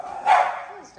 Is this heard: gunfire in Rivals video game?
no